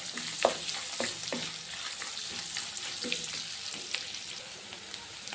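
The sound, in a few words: onions frying in a pan with turmeric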